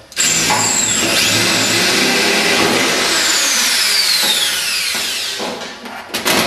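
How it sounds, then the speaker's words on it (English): A power drill whines loudly and continuously, its pitch shifting as it bores through material, then tapers off with a few short bursts. "We'll just drill one to start with."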